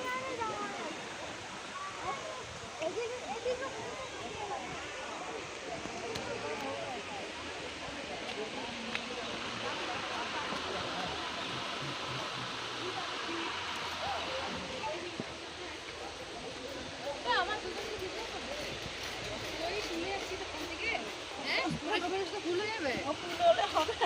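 The waterfall at Rock Garden in Darjeeling sends up a constant, even rush of falling water that fills the whole stretch, with faint voices now and then under the roar.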